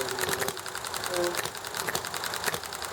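An Enjomor model engine running with a fast, steady mechanical chatter and rattle, close and fairly busy, with a person talking over it amid background noise.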